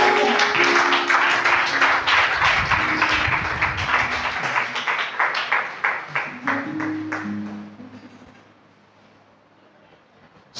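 A church congregation at an exhortation service claps in a brisk, steady rhythm alongside sustained musical or sung tones, then the claps thin out and fade to near silence.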